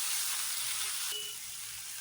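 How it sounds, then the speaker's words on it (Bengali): Food fries in a pan with salt and turmeric added, a soft continuous sizzle that drops slightly quieter partway through, with no voices. "এবারেও আরেকটু ভাজতে থাকবো"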